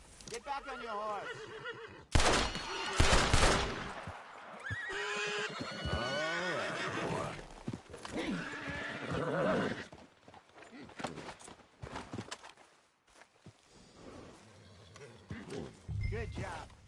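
A horse in Red Dead Redemption 2 gives loud whinnies and snorts amid clip-clopping hooves and game sounds, with characters talking over parts of it.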